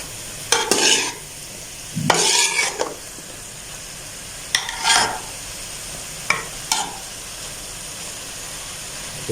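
A spoon stirs chicken vegetable macaroni in a hot pan, scraping and sizzling in several separate bursts with quiet pauses between them, close by and without speech.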